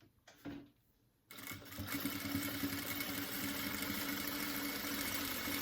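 A sewing machine runs steadily, stitching decorative embroidered trim onto a dish towel, starting after a short pause and continuing as a close, even mechanical whir.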